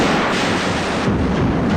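A dense burst of rapid gunfire, continuous sharp cracks blending into a loud rumbling clatter for under two seconds.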